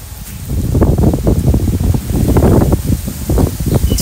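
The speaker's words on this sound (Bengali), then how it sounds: "প্রচন্ড হাওয়া হচ্ছে। কালবৈশাখী, কালবৈশাখী আরম্ভ হয়ে গেছে।" A strong Kalbaishakhi nor'wester storm wind roars and gusts continuously, loud and close, with leaves rustling and buffeting the microphone.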